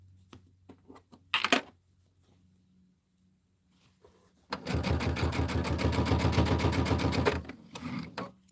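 A sewing machine threaded with timber-colored top thread and a regular pre-wound bobbin runs one loud, steady burst of rapid stitching for about three seconds, after a few faint clicks and a short rustle.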